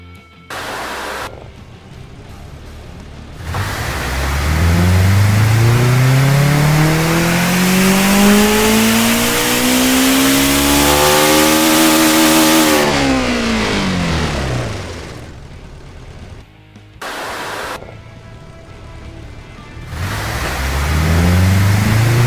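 A roughly 2500-horsepower carbon-fiber-infused aluminum engine in the car tycoon game Automation revs hard, climbing steadily in pitch to a loud peak, then dropping back, followed by short bursts of revving, close and loud with no talking.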